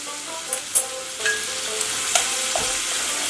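Pieces of potol fry lightly in oil with salt and turmeric, a close, clear sizzle punctuated by several scraping stirs and light clinks, with no one speaking.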